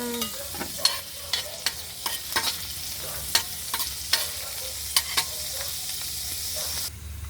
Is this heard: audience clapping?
no